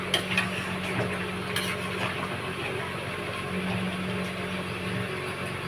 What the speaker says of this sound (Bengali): নাড়তে নাড়তে হয়ে গেছে,